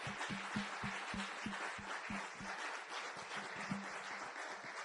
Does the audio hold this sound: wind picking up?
no